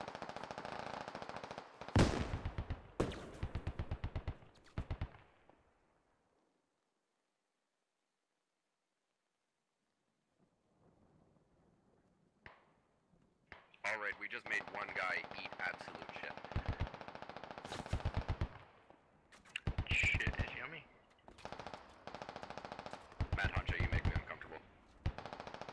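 Heavy automatic gunfire from the video game Squad, dense bursts of rifle and machine-gun fire that stop for several seconds of near silence, then pick back up with sustained overlapping shots and loud cracks.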